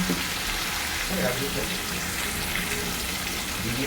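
Tomato and green chili paste with turmeric and salt sautéing in a pan, a dense continuous sizzle with faint stirring and a hint of a voice underneath.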